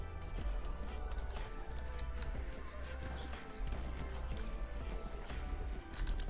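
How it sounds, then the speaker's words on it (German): In the video game Battlefield 1, a ridden horse gallops with steady clip-clop hoofbeats under a dense, loud wash of battlefield noise and occasional impacts, continuing throughout without pause. "Wir hatten gerade das Pferd geritten."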